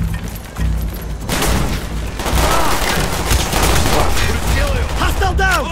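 Player's gun firing in Call of Duty: Black Ops campaign combat, loud sustained bursts of automatic gunfire mixed with explosions and chaotic battle sounds.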